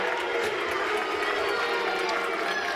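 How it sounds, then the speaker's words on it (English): A hockey arena crowd of Belfast Giants fans stands applauding and cheering after a fight, a dense continuous roar of clapping and voices filling the rink. "The Giants fans, of course, on their feet and applauding Leonard."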